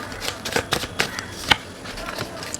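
Tarot cards being shuffled by hand, heard as a run of soft, quick riffling snaps and flutters at close range with short pauses between bursts and no voice over them.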